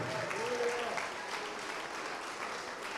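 A church congregation claps together in a dense, steady round of applause, filling the room for a few seconds with a faint voice briefly audible underneath.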